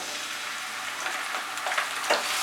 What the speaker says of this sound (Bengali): আরো 2 মিনিট আমি মাঝারি আঁচে এটাকে ফ্রাই করব।